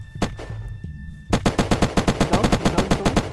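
Video game Unturned gunfire: a couple of isolated shots, then a rapid automatic burst of evenly spaced cracks, loud and close, with no talk over it.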